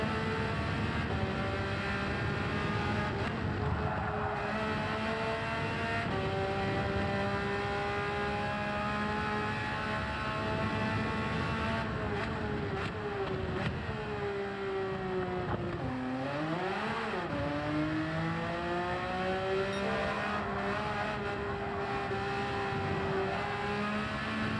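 A race car engine in Gran Turismo 7 during an online daily race, revving loud and continuous with rising and falling pitch as it shifts gears, then dipping sharply under braking and climbing again, with no talk over it.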